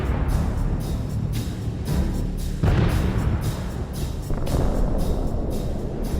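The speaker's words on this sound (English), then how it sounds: "At least 5 explosions occurred over such a short distance." Explosions in a combat zone along a road through destroyed equipment, with repeated heavy booms and blasts rumbling loudly one after another over a continuous roaring background.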